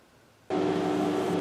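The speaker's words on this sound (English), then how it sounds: "Apologize for the extra noise from the air conditioner." An air conditioner switches on abruptly after a quiet moment, settling into a steady close hum with a low tonal drone.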